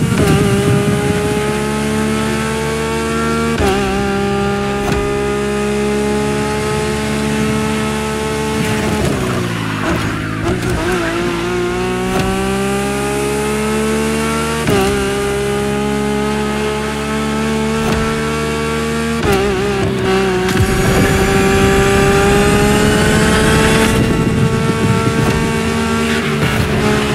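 A Lamborghini racing in the video game The Crew Motorfest: a loud, continuous engine roar that rises in pitch and drops sharply at several gear shifts, with occasional tire noise.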